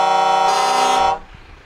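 A single loud truck horn blasts close by for about a second before cutting off, leaving faint background noise.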